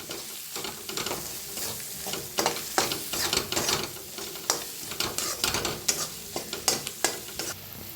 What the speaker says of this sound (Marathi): आता भाजून घेऊया। छान असं भाजायचं 1 मिनिट बरं।